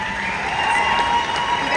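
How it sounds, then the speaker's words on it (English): An audience claps and cheers steadily at a Q Sciences company event, a dense continuous wash of hands and voices across the whole short stretch. "are gonna give them one more round of applause."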